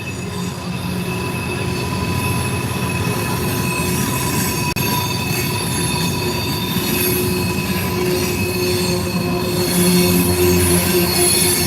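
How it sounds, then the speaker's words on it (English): A slow westbound freight train rolls past on track 1 at Horseshoe Curve, Pennsylvania, loud and close, a continuous grinding rumble with sustained high wheel squeal over the rails. "We got a slow train on 1 here."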